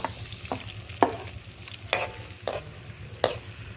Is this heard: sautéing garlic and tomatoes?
yes